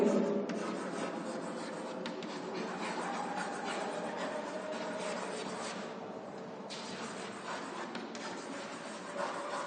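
Chalk or marker scratches and rubs against a board in a lecture room, a near, continuous scraping texture with short strokes and pauses, without speech over it.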